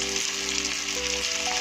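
Manchurian balls frying in hot oil, a dense continuous crackling sizzle with a faint steady hum underneath, close up and with no voices.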